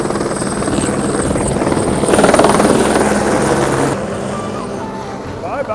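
A helicopter flies in on the Everest trek at about 11,200 feet, its loud rotor chop swelling as it comes close and then easing off, with wind noise and faint voices.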